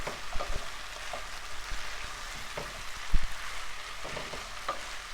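Potatoes, carrots, onions and peas sizzle in a pot on the stove, a steady hiss broken by several knocks and scrapes of stirring, close and moderately loud, no voices.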